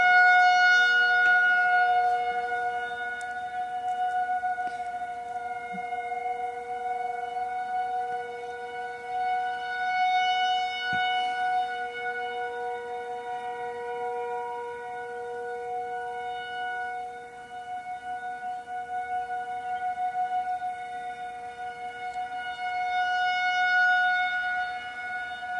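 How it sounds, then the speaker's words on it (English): Tornado sirens wailing steadily in the distance, a sustained tonal drone that swells and fades gently as it rotates, carrying on alone for the whole stretch with no voices. "I wanted to capture the tornado sirens."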